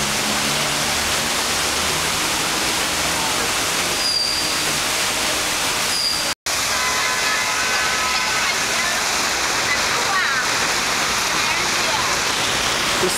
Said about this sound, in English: There's so much water here, it's filled up this entire road and cars can't get through.